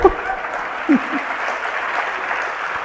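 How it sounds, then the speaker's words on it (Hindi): An audience at a religious discourse claps in a steady patter, with a voice briefly heard over it near the start and end. "तो फिर अपने आप ही ताली बजाया करो,"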